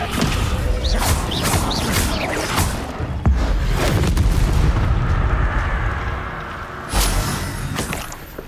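Hogwarts Legacy spell combat erupts in loud, dense bursts of magical blasts, booms and crashes following one another rapidly, with a few sharper impacts standing out.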